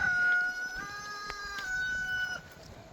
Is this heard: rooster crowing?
yes